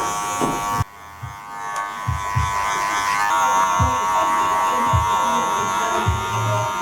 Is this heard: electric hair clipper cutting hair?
yes